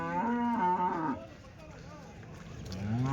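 At a weekly cattle market in Chintamani, a cow lets out a long, deep moo, then after a pause a second moo begins, close and loud.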